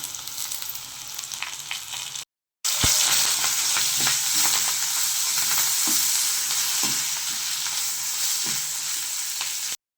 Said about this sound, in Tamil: மிளகா, வெங்காயம் இதெல்லாம் ஃப்ரை ஆகிருக்கு நல்லா